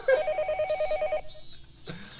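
An electronic telephone ring in a Higurashi video game, a rapid pulsing trill of bright tones repeating steadily for just over a second, then cutting off into quieter background music.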